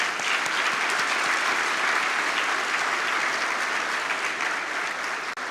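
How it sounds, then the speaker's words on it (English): A large audience at the Port of Long Beach State of the Port 2020 event applauds VIP guests, a loud, full, continuous roar of clapping that holds steady for over five seconds. "Let's give them all a big round of applause."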